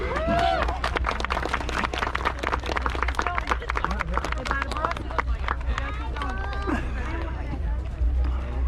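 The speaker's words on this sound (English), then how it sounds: "big round of applause for them guys." Outdoor crowd clapping and cheering for a police K-9 unit demonstration at a National Night Out event, steady applause with babble and nearby voices talking throughout.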